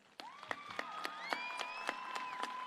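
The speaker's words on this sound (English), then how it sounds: "Let's give our graduates a huge round of applause." At a high school graduation ceremony, a crowd claps in a steady, evenly spaced rhythm, with a rising, sliding whistle-like tone over the claps, all somewhat distant and echoing.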